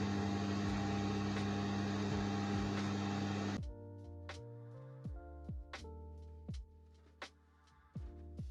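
A sewing machine runs steadily as it stitches ribbon onto patchwork, then stops abruptly. Scattered quiet clicks and handling knocks follow the stop.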